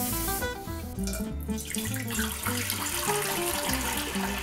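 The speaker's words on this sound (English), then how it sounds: "now we filled our pot with 6 quarts of water" Water running from a tap into a cooking pot for home brewing a light ale, a steady close rushing and splashing stream that continues throughout, heard alone with no voices over it.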